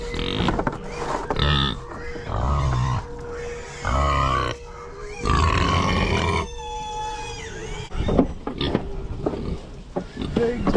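Several bursts of low grunting from pigs come and go, with a steady hum and wind-like noise underneath and a few sharper squeals near the end.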